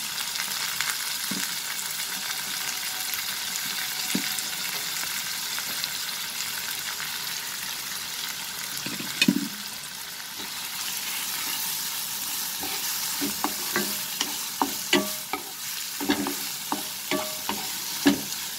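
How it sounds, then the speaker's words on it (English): Chopped onion sautéing in a pan over medium flame for an egg and chana dal dish, a steady sizzling hiss with scattered stirring scrapes and clicks growing busier toward the end. "Now we will saute and cook this onion till it gets slightly cooked over medium flame"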